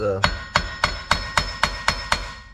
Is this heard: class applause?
no